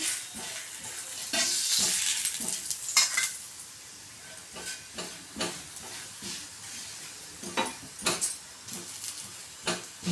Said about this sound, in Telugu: ఆయిల్ పూసుకున్నాక బాగా కాగమే కాలనిద్దాం చూడండి ఇలా ఇలా తిప్పుకుంటే మొత్తం చపాతి అంతా ఇలా బాగా కాలుతుంది